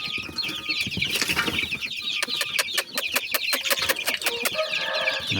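Young chicks hatched in late April chirp and cluck in a dense, continuous chorus, with rapid high peeps overlapping throughout and no talking.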